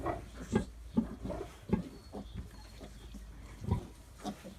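Mangalica piglets grunt and snort repeatedly up close, short low oinks coming in an uneven rhythm.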